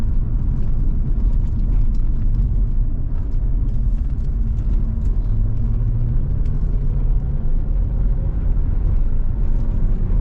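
Cadillac BLS 2.8 V6 turbo pulling away under light throttle, a steady, loud low engine rumble with a slight rising tone, continuous throughout with no talk.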